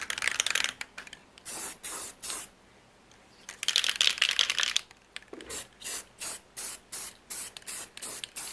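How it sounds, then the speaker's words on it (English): An aerosol can sprays clear coat over glitter on the tail light housings of a 1977 Chevrolet C10 truck: two sustained hissing passes followed by a string of short, evenly spaced bursts, close and loud. "And then add more clear coat over top of the glitter"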